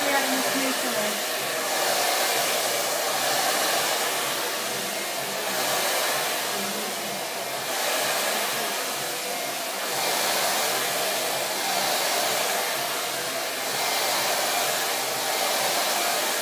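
A hair dryer blows steadily and close for the whole stretch, airflow aimed downward while hair is brushed, its broad whoosh gently swelling and dipping as the brush moves.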